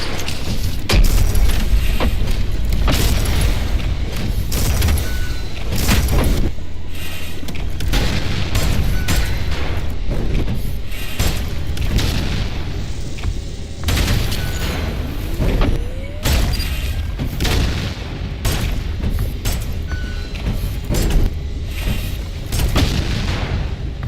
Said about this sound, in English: I can punch my bullets to make them explode